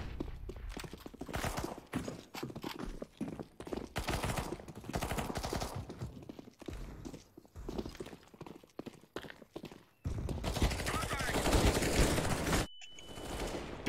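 Gunfire in the video game Counter-Strike Global Offensive, rapid bursts of shots and clattering footsteps, loudest in a sustained volley near the end.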